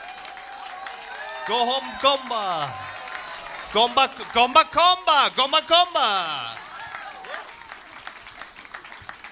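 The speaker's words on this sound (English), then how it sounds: "I want to give a massive round of applause for Nelson T." A comedy club audience applauds and cheers for a comedian, with an announcer's voice talking over the crowd noise in short bursts before the applause fades.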